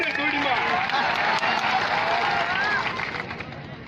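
A crowd at an outdoor rally in Bagasara, Gujarat, breaks into applause, dense clapping and cheering over a mixed hubbub that fades slightly toward the end, with talk beneath it.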